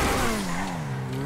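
A Vysser Neo sports car in GTA 5 Online accelerates hard, its engine roaring loud and close as the pitch climbs and eases through a short burst of throttle.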